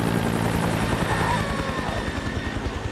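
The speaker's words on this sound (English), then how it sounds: "this helicopter just literally seemed like it was flying out of the mist." A helicopter flies close through misty air, its loud rotor chop pulsing steadily and evenly for the full length with a constant engine whine beneath it.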